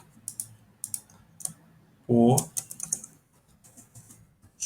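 Scattered, close clicks of typing on a computer keyboard come in short runs, with a brief burst of a person speaking Portuguese in the middle.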